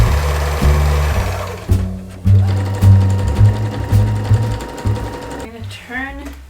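A sewing machine whirs loudly and continuously as it stitches a dress, its motor speed shifting slightly. It winds down near the end, where a brief voice is heard.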